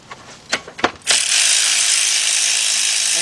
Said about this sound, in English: So I got a 13 millimeter shallow 3/8 drive with my cordless ratchet.